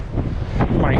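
Strong wind gusts buffet the microphone on a flat, snowy trail on a cold training day, roaring loudly and unevenly for a brief moment.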